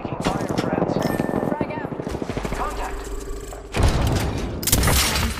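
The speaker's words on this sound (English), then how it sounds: "Oh, I am taking fire." Gunfire from the Apex Legends video game, dense overlapping shots and booms in rapid bursts, loud and close, with a heavy burst surging in late.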